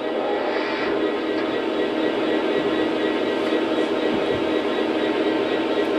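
A model SD40-2 locomotive runs with a steady, even mechanical rumble and hum at constant loudness. Its sound comes alone and unbroken, with a few faint clicks near the end.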